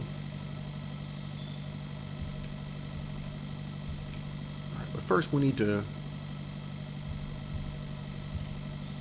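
A tractor engine idles steadily in the Pure Farming 2018 video game, giving a constant low hum and vibration while someone talks over it.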